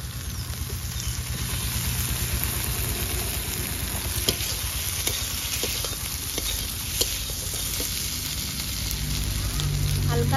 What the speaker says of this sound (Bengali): এবার কচুরলতি চিংড়ি মাছ ঢেলে দেব।